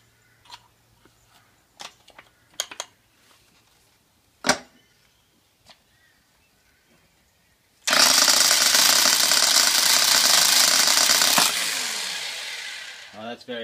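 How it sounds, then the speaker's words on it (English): A Baumr-AG 1800W rotary hammer drill with a masonry bit, faulty and not hammering properly, bores into masonry in a loud, sustained burst of about four seconds after scattered quiet knocks, then winds down. "I'll just demonstrate it with the masonry drill bit"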